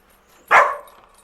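A single short dog bark rings out close by in a quiet outdoor garden, a sharp burst that fades quickly.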